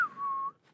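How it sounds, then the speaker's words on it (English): A single person's cowboy-style whistle: a sharp rising onset that settles into one long steady tone held for about half a second, then a faint breathy tail, close and fairly loud with no talk. "I'll show you that cowboy whistle."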